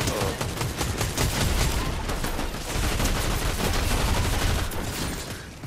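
Rapid, sustained gunfire rattles without pause in the video game Fortnite, a dense continuous volley of shots that stays loud from start to finish.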